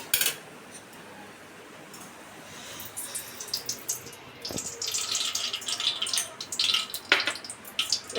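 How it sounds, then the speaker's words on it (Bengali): Mutton biryani with potatoes is mixed with ghee in a pot, a quiet start giving way to repeated scraping and clinking of the spoon against the pot, growing busier toward the end. "এবার আমি ঘিটা দিয়ে বিরিয়ানিটা মেশাবো"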